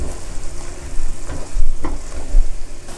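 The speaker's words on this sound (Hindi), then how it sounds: "अब मैं इसके अंदर 1 मीडियम साइज का चॉप्ड अनियन डालूंगी और तकरीबन 2 से 3 मिनट तक प्याज को मैं सॉटे कर लेती हूँ पकाते हुए" Chopped onion is sautéed in a pan, giving a steady close sizzle and fry with occasional scraping and stirring knocks, and no voices.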